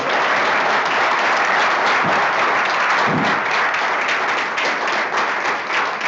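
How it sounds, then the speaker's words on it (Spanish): A large audience at a talk by comic artist David Lloyd breaks into loud, sustained applause, a thick continuous roar of clapping hands that holds steady throughout, with a few louder claps standing out near the middle. "Os voy a pedir un enorme aplauso para el maestro David Lloyd, por favor."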